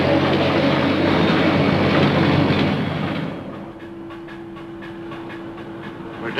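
A tram in the 1951 film Unknown World rumbles loud and steady, a broad continuous roar like a rail car in motion, then settles to a quieter, lower drone with a faint steady hum.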